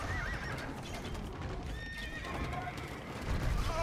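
Horses neigh and whinny amid clip-clop hooves and battle noise in the Age of Empires 2 video game, several overlapping calls layered over a dense, steady mix of game sounds.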